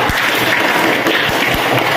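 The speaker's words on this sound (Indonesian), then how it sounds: "Tepuk tangan dulu dari kita." A classroom audience claps steadily throughout during a teaching practice lesson, a dense wash of applause with no voices on top.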